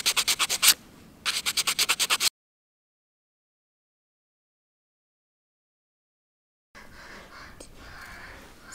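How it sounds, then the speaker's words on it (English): A handmade button is smoothed after filing with quick rhythmic rubbing strokes, two brisk bursts, then a long silence and a softer steady scraping rub at the end. "So I have to smoothen up the surface because now it has all of those kind of lines from the file"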